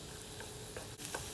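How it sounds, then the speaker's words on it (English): Onion and garlic sizzling in hot oil in a pot for hot and sour shiitake soup; a steady, close frying hiss with a faint stir or scrape, no talking. "onion and garlic going in. Not sure if you can hear, but now let's just sizzle for a little bit"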